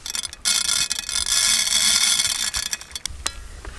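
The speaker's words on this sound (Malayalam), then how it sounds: "എണ്ണ ചൂടായതിലേക്ക് നമുക്ക് കടുക് ഇട്ട് കൊടുക്കാം." Mustard seeds dropped into hot oil in a pan for a tender coconut curry crackle and sputter in a bright, hissing sizzle, with scattered sharp pops and a brief quieter start before the sizzle swells.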